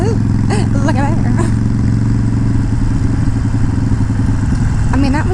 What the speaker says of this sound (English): what I'm riding here is a 2011 Harley-Davidson Iron 883. It's a Sportster.